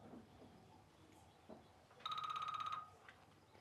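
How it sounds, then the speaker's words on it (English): A phone timer rings with a short burst of rapid electronic trills, fairly loud over a quiet indoor room and lasting under a second before stopping. "Can we turn the phone off, please?"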